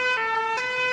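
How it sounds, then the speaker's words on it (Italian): A cartoon fire engine siren from Peppa Pig wails steadily and loud, a bright harmonic tone with a brief pitch swell midway, no voices. "Questo è il suono della sirena dei pompieri."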